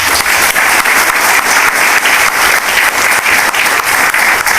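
Loud, sustained applause from a seated audience at an RCM gathering, dense rhythmic clapping running unbroken from start to finish with no talking over it.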